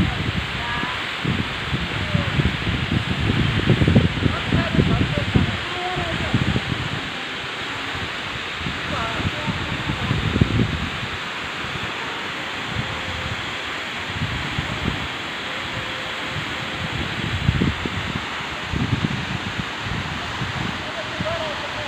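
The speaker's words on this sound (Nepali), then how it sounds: "करीब दुई फिट लामो झरना आइरहेको छ" A small waterfall about two feet high spills from a hole in the rock above, a steady broadband rush close by with uneven gusty surges and no talk over it.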